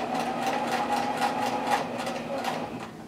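A sewing machine stitches a coiled rope bowl with a steady, rapid mechanical whir and rhythmic clatter at moderate distance, continuous for the whole stretch.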